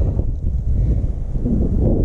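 Strong wind buffets the microphone during a spring street ride on a fat bike, a loud, continuous low rumble that never lets up.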